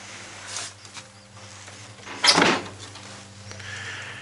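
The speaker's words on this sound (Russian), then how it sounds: "двери по-прежнему закрываются и открываются спокойно" Old wooden house door in an abandoned village opening and closing, a single loud creaking scrape with a knock in the middle, surrounded by faint room noise and light shuffling.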